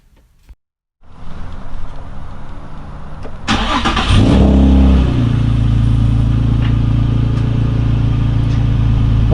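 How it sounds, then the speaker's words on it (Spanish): Nissan 350Z with a VQ35DE engine cranks after a brief silence, catches, and revs up before settling into a steady, loud, close idle. "Como pueden ver, arrancó sin ningún problema y se mantiene muy estable, ya no tiene ningún problema al acelerar"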